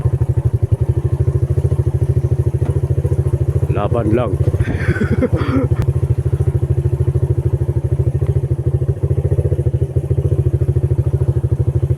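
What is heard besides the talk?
motorcycle riding on rough road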